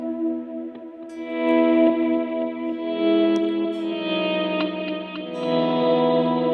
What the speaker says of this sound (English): So that would be the preset with the compressor, the amp block, and the Autoswell Delay.